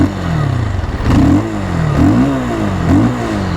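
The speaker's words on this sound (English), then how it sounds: "the exhaust note guys, वो सुन लेते पहले" A Bajaj Pulsar 220 motorcycle revs its exhaust in three or four sharp throttle blips, the pitch climbing then falling each time over a steady idle, loud and close with no talking.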